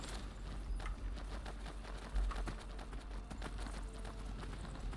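Horse hooves galloping at a steady clip-clop in Skyrim, a continuous run of rhythmic thuds that sits close and fairly loud over a low ambient bed.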